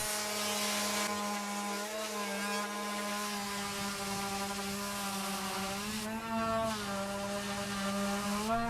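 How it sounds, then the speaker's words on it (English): Black & Decker mouse sander working along the flat edges near the legs of a hexagonal wooden end table, a steady close whirring buzz with a droning pitch that wavers slightly throughout, no talking. "I like to use a Black & Decker mouse sander near the flat edges around the legs."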